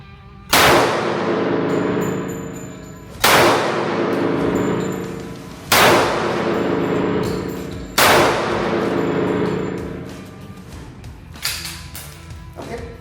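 Four loud, sharp gunshots fired one after another on an outdoor shooting range, each a hard crack with a ringing decay, spaced about two to three seconds apart, followed by a fainter clank near the end.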